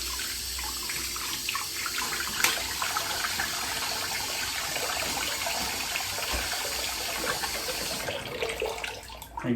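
Water runs from a tap onto a thin 0.06mm poly hairpiece as it is wetted, a steady close rush of flow with small splashing changes, ending in a short fade.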